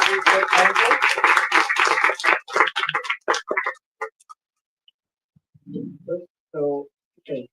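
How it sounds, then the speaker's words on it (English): An audience claps loudly for a few seconds for a doctor at a talk on recognizing narcissists, the applause thinning to scattered claps, followed by brief bits of talk. "An applause for the doctor, please."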